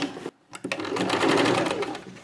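A sewing machine stitching piping onto a designer blouse, a brief pause and a couple of stuttering starts before a steady, close whirring run of rapid needle strokes.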